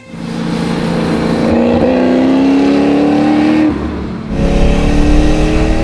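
A supercharged Boss 302 Mustang pulls hard through third gear, its engine note climbing steadily and loudly from close by, easing briefly before surging again as the throttle reopens.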